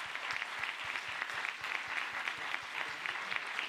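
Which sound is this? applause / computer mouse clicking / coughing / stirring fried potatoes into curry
applause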